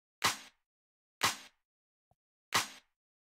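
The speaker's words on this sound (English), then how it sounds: "take like the claps / snares, which all together sound like this" Layered clap and snare drum samples hit three times alone, each a sharp bright crack with a short decaying tail, spaced roughly a second apart, with a tiny faint tick between the second and third.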